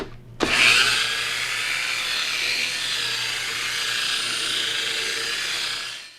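A brand new drywall sander starts abruptly and runs on slow speed with 240-grit paper, producing a steady high-pitched motor whine with a faint, slightly wavering tone. It runs alone and close by, then winds down at the very end.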